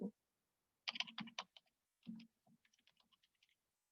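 Short bursts of typing on a computer keyboard while filling in fields in a cataloging app, quick close clicks in two or three clusters separated by pauses.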